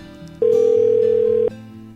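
Telephone ringback tone on an outgoing call: one steady, loud electronic tone lasting about a second, with quieter line hum before and after it.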